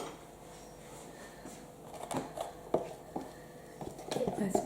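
Intermittent scrapes and knocks as a spatula works around a bowl of vanilla bean yogurt batter, faint at first and then busier, with a voice talking over it.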